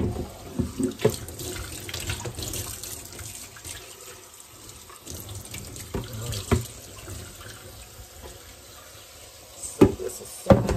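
Tap water runs steadily into a sink as skin and grease are rinsed off food, with a continuous close splashing stream broken by a few sharper splashes and knocks.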